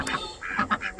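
A pair of Rouen ducks, a farm breed like large mallards, gives a few short, close quacks in quick succession.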